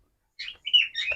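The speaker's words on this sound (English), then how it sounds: "Birds." Birds at a theme park give a few quick, high chirps in close succession, brief and clear against near silence.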